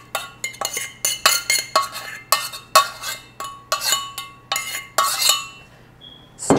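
A spoon stirs cooked rice into sausage in a skillet, making a rapid series of sharp metallic clinks and scrapes in an irregular rhythm, close and clear, then stopping abruptly.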